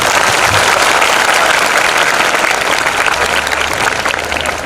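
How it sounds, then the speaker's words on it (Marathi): Loud, sustained applause from a large crowd welcomes a guest at a motivational talk, a dense wash of clapping that holds steady throughout and thins slightly at the very end. "साहेबांचं आपण सगळेजण टाळ्या वाजून स्वागत करतो"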